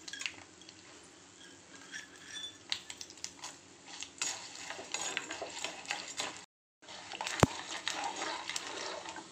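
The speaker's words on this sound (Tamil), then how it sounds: "கடுகு, கடலைப்பருப்பு பொரிஞ்சிருச்சு" Mustard seeds and chana dal crackle and pop in hot oil, a steady close sizzle peppered with small sharp snaps and one brief pause.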